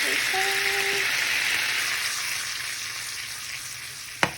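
Mango habanero wing sauce bubbles and sizzles steadily in a pan, close and even throughout, with a short tonal beep early on and two sharp knocks at the end.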